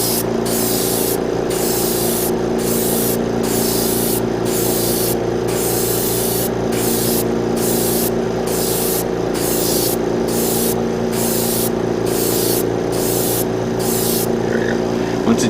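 Aerosol spray paint hissing in steady bursts over Gundam model kit parts, an HG Barbataurus sword and inner frame pieces, close and loud, with about a dozen rhythmic short sprays separated by brief pauses.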